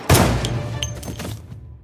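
Gunshots fired inside a high school classroom ring out as a sharp crack followed by further dull reports and reverberating thumps over about a second and a half, then fade.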